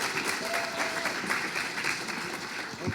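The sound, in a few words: audience applause for speaker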